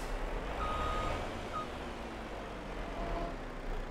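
A log truck pulling a trailer turns around in a video game, its engine running steadily alongside intermittent reversing beeps, with no voices.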